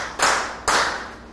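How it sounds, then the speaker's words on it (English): A classroom gives a student group a round of applause: two brief, loud bursts of hand clapping close by, each fading quickly. "give that group a round of applause"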